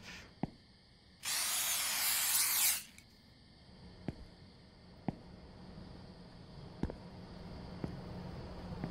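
Rat killer spray hisses in one loud, steady burst lasting about a second and a half in the video game The Convenience Store, followed by faint, sparse clicks and taps of in-game activity.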